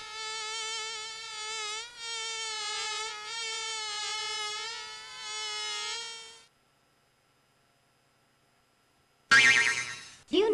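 A voice in the Gus Goes to the Kooky Carnival video game imitates a buzzing bee, a sustained nasal drone broken by brief dips over several seconds, followed by silence and then a short loud burst.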